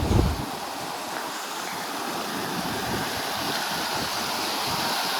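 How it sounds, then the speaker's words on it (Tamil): A steady, loud rush of monsoon wind blowing hard without letup on a mountain ghat road, a broad roaring hiss that could include rushing water, and no voices. "பயங்கரமாக காற்றடிக்குது"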